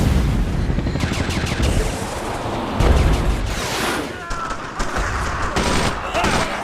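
Rifle fire and weapon effects from the World War II shooter Brothers In Arms: Road to Hill 30 crackle in dense, overlapping bursts and booms, loud and continuous amid heavy battlefield noise.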